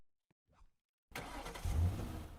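A car engine in the Tower Defense X game roars to life after a near-silent pause, a sudden loud mid-pitched revving rumble that holds steady to the end.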